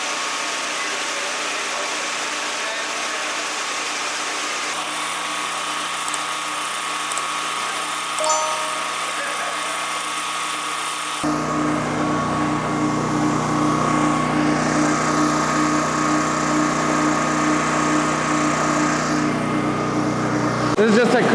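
A 4.5-inch grinder fitted with a dust shroud grinds a garage concrete floor, a continuous motor drone that shifts and grows louder partway through, with a person talking over it.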